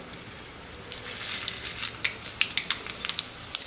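Mustard seeds and a torn chili sizzle and pop in a little hot oil for sambar, a loud hiss building into a rapid run of sharp crackles.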